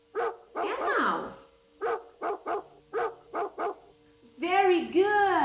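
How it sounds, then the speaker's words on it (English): A dog barks in a run of sharp, closely spaced barks, some in quick pairs, then ends with two longer whining yelps, all close and loud. "Very good. It's a dog."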